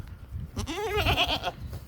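A single wavering bleat from a goat nearby, rising and trembling for about a second over low background rumble.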